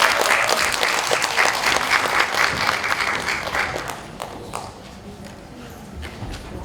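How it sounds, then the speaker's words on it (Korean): Audience applause at a poetry festival's song concert, a dense, steady wash of clapping that thins and fades toward the end, with no talk over it. "박수로 부탁드립니다."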